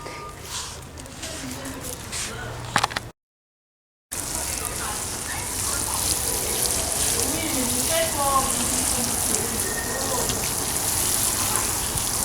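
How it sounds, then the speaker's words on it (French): Allium moly (golden garlic) perennials are watered in a garden, a steady close hiss of spraying water that runs on evenly after a brief silent break. "il me reste plus qu'à arroser"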